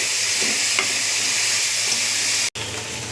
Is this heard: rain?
no